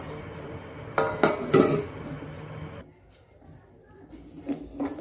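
Lid set onto a pot of cauliflower curry in a home kitchen: a few sharp metallic clinks and rattles, close by, followed by quiet background with faint later taps.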